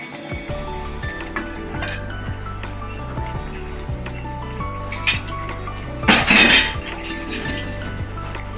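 Papaya is tipped into a pan of rui fish curry and stirred, giving metallic clinks and scraping of a utensil against the pan over a steady low hum, with a louder clatter toward the end.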